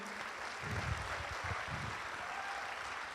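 Audience applause at a business seminar as a woman presenter is called to the stage, a broad, steady wash of clapping lasting a few seconds at moderate volume.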